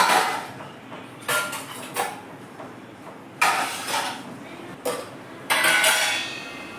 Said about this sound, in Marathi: हे भांडे काढून घेते मी